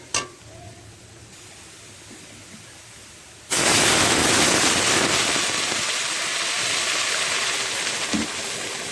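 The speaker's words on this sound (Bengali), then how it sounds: "সেই পরিমাণ মতো আমি জল দেব।" Water poured into a pot of lightly oil-fried masoor lentils, a loud, sudden rushing hiss that starts a few seconds in and continues steadily to the end.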